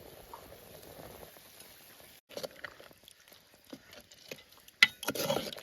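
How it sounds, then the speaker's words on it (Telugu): A meat curry boils in a pot, making a faint, uneven bubbling with scattered soft pops and a few louder bursts near the end. "బాగా మరిగిపోయింది"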